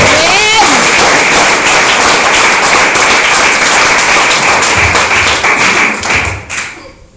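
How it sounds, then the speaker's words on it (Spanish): Church congregation applauding, a loud sustained burst of many hands clapping with sharp irregular claps, carrying on for several seconds before tapering off near the end. "Dale un fuerte aplauso al Señor, que Él se lo merece."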